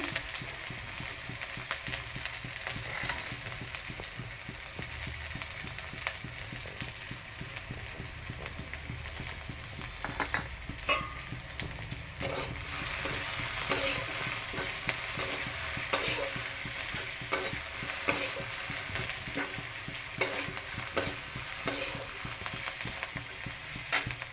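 Chopped onion and garlic frying in a pan for a red amaranth vegetable dish, a dense continuous crackling sizzle with occasional stirring scrapes, close and steady throughout with no speech.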